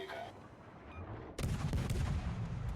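A warship's guns fire in World of Warships: after a quieter stretch of low game rumble, a sudden loud salvo of booming blasts hits and rolls on for more than a second.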